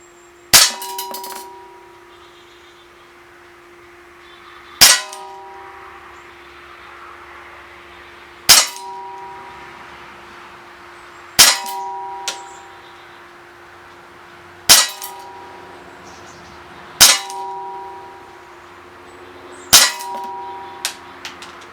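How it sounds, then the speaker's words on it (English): Sig Sauer GSR all-metal CO2 BB pistol fired eight times at a metal target from 20 feet, each sharp crack paired with a ringing metallic clang, spaced a few seconds apart with quiet between. "we're going to shoot 8 rounds at this target in a freestanding position, and we're 20 feet away"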